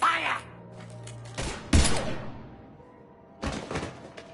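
A few heavy gunshots in the Mass Effect video game, separated by short gaps, each a sharp loud burst with thin fading tails and no talk between them.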